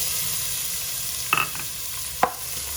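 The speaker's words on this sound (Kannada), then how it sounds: "ಎಣ್ಣೆಲಿ ಈರುಳ್ಳಿ ಸ್ವಲ್ಪ ಫ್ರೈ ಆದಮೇಲೆ" Chopped onion frying in a few spoons of oil in a pressure cooker, a continuous close sizzle broken by two sharp metallic clinks of a stirring spoon against the pot.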